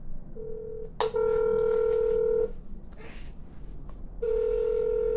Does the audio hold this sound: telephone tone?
yes